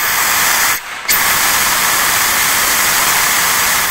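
Aerosol cleaner is sprayed into the Vanos solenoid board of a BMW E39 M5 in a loud, close, continuous hiss, broken once by a short pause before spraying resumes.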